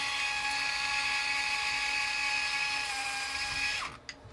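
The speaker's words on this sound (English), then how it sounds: "let's try to unscrew these screws as well" A small electric screwdriver whirs steadily while removing screws from a Pioneer FLX10 DJ controller's jog wheel, a continuous high-pitched motor whine for nearly four seconds that stops abruptly with a couple of faint clicks.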